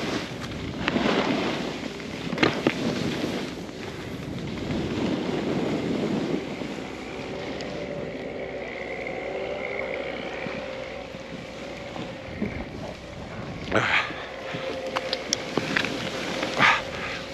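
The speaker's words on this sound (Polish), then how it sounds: "wiatr wieje z prawej i z lewej i wywiewa im ten śnieg" Wind sweeps across an exposed ski slope on Chopok at Jasna, Slovakia, in a continuous rushing roar that gusts stronger at the start and near the end, buffeting the microphone. No one speaks.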